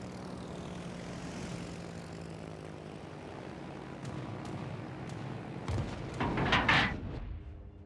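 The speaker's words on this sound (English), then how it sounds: "Fighter airborne." Propeller fighter aircraft engine droning in a naval game, a steady low hum building toward a louder pass with sharp gunfire-like cracks near the end.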